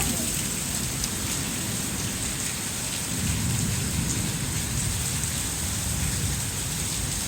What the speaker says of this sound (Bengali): বৃষ্টিটা দারুণ